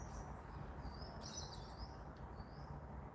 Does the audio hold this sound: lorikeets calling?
yes